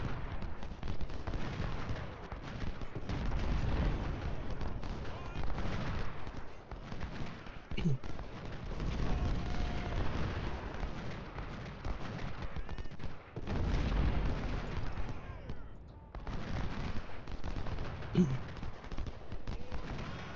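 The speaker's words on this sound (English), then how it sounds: "everyone's just sitting here shooting at each other" Sustained Civil War musket volleys and artillery fire from the Battle of Fredericksburg in the Ultimate General strategy game, a dense, continuous crackle of rifle shots with deeper booms, loud and unbroken throughout with brief lulls.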